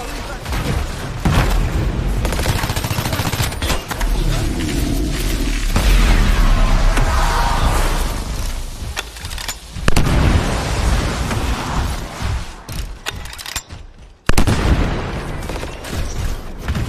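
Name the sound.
gunfire in the video game Anthem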